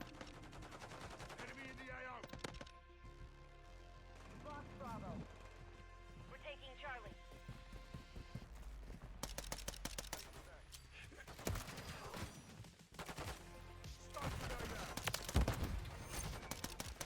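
Sniper and rifle fire in Modern Warfare 3 cracks out in scattered, sharp shots and short volleys amid game noise, with someone talking over much of it.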